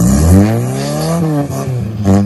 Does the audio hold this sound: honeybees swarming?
no